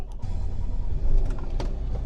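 A 2025 Volvo VNL860 truck's engine starts up and settles into a muffled low rumble, heard from inside the cab with a few faint clicks, without speech.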